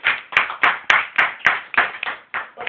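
A church congregation claps in steady unison to acclaim the Lord, nine or ten sharp, evenly spaced claps ringing close and loud with no talk.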